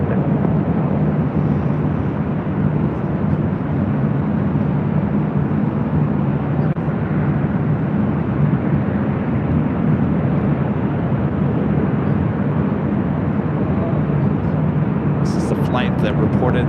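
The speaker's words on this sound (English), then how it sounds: "Next arrival is the go around United Express flight 5341 coming in from Arcata." A United Express Embraer E175 jet airliner arrives at LAX on a go-around approach, its broad, steady low roar loud and continuous throughout, with no voices over it.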